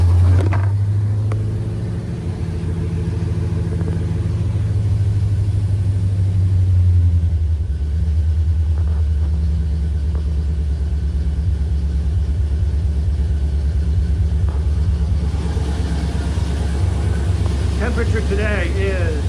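A 350 Oldsmobile engine with EFI cold-starts on a chilly 43-degree day, settling into a loud, steady low rumble that holds a close, even idle throughout.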